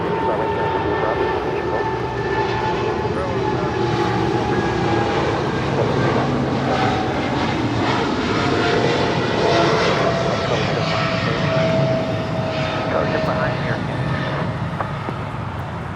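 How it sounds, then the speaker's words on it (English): A Qatar Cargo Boeing 777 freighter departing LAX for Chicago produces a steady, loud jet roar with faint tonal whines layered over it, while someone speaks quietly beneath the engine noise. "This is Qatar Cargo 8105 departing to Chicago here on a 777 freighter."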